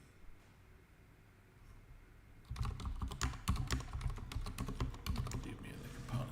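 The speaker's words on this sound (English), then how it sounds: "I can type" Someone types on a computer keyboard while coding a React shopping cart. After a quiet opening of a few seconds, a rapid, steady run of close keystrokes fills the rest of the clip without any talking.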